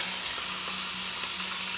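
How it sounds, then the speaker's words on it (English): Seasoned meat sizzles steadily in hot oil in a frying pan, a constant close crackle and hiss with a faint low hum beneath and no voices. "put the side that you've seasoned onto the bottom of the pan. It's okay if it sizzles, that's a good thing."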